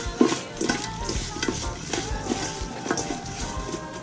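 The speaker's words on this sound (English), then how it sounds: "All right, mix that up real good" Seasoning is stirred into raw chicken breast with salt and pepper, giving close, irregular wet scraping and squishing sounds at moderate volume with no talking.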